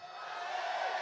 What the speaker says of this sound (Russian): Значит, кричите «Амен».